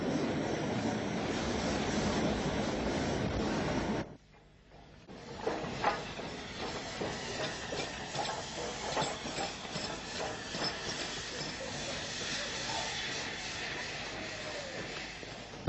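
A Maunsell N-class mogul steam locomotive passes through a station, its train including Pullman cars: a steady rushing, hissing roar at moderate distance that cuts out abruptly, then returns as irregular rattling and clattering over a continuous hiss.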